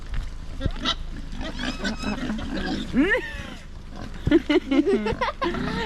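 Pigs in Corsica grunt and squeal in loud, close, irregular bursts, with people talking among them.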